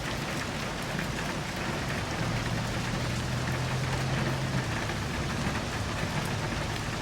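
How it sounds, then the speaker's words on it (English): Moderate rainfall in the Love and Deepspace video game, a dense, steady hiss of rain on surfaces with a faint low hum underneath, continuous and fairly loud. "Moderate rainfall should continue today, and there are no signs of it letting up."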